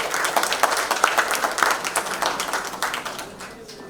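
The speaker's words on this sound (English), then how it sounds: "Can we have a round of applause," An audience at a live real estate industry podium event applauds to welcome a moderator to the stage, with steady, moderately loud clapping that keeps going and tapers off slightly at the end.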